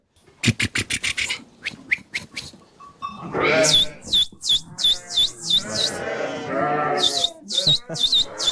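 Several high, wavering bleats from a young sheep ring out close by in the second half, following a stretch of sharp knocks and rustling.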